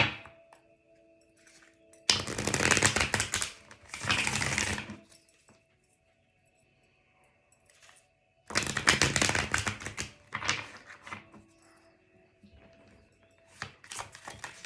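A deck of message cards is shuffled in two long riffling bursts, close and crisp, with quiet pauses between them.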